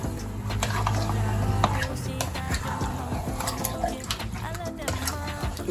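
Lamb stew being stirred in a pot after water is added, a continuous wet sloshing and scraping with occasional clinks, heard close under background sound.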